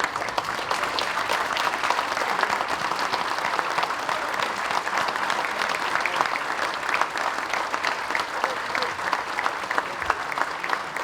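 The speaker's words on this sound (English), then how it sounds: "We'll give a round of applause" A standing audience at a Massachusetts hockey awards and Hall of Fame banquet applauds in memory of someone, producing dense, sustained, loud clapping that holds evenly for about eleven seconds.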